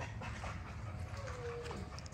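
Nyla, a dog kept separated at a kennel gate, makes faint whimpering and yipping sounds against a busy background of kennel noise and low rumble, with no clear bark standing out.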